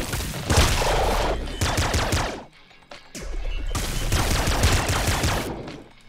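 Rapid, dense bursts of crackling energy fire from a lightning pistol in the video game Nuclear Throne, loud and continuous in two long volleys separated by a brief near-silent pause.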